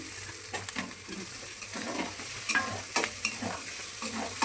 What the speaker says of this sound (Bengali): এবারে কষাবো মশলা কষানো হয়ে গেছে এবার তেল ছেড়ে দিয়েছে